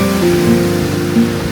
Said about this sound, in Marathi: इथून पाणी असं चाललं आहे, मोठा कड्या.